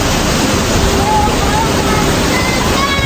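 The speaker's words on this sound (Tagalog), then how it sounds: "medyo malakas yung agos ng tubig" Nadsadjan Falls in Igbaras, Philippines, roars as a dense, constant rush of water, loud and close, with a voice faintly present under the noise.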